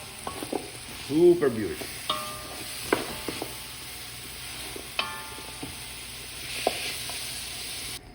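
A pork loin mixture with pepper sizzles in a pan as it is stirred, with scraping strokes and clinks over a soft, steady fry; a voice speaks briefly near the start.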